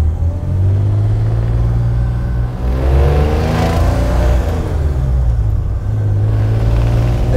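A three-speed car with reverse runs with a steady, deep engine rumble, swelling briefly as it revs in the middle before settling back to an even idle, loud and close.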